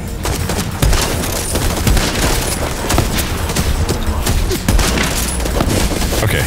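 Rapid, loud shotgun blasts in Borderlands 3 fire in a dense, steady stream of impacts amid constant combat noise.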